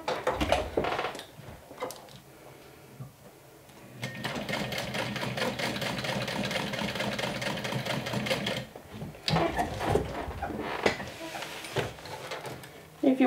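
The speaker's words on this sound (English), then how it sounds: "right sides together, we're going to be adding the connector through both layers" Sewing machine stitching a connector through two layers of a glow-in-the-dark backpack and crossbody bag, in short bursts of rapid mechanical clatter with a long steady run in the middle and pauses between.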